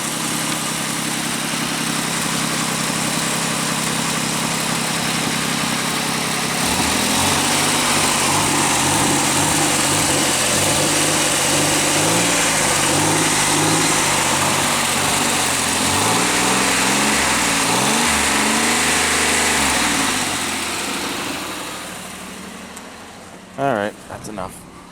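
A Pontiac Aztek engine idles just after an oil change, a steady, close hum with a shifting tone partway through, then fading near the end; a person talks over it.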